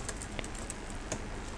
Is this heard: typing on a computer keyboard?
yes